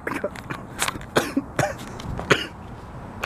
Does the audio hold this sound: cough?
yes